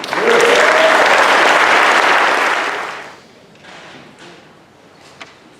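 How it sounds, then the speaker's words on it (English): Audience applause for the pianist George Garcia at a jazz piano showcase: a dense, loud burst of clapping that holds for about three seconds, then fades to a few scattered claps and faint room noise. "How about a nice round of applause for Mr. George Garcia"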